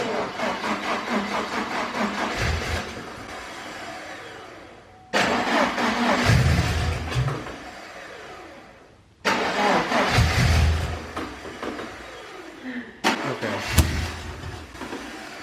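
A rebuilt Subaru Forester engine cranks and catches in several separate attempts, each a loud burst of starter whine and rough firing that fades before the next try.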